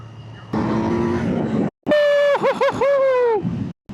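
Motorcycle engine, a Yamaha MT-09 or Kawasaki Z900, idling roughly and then revving loudly in several close, rising-and-falling bursts with brief cuts between them.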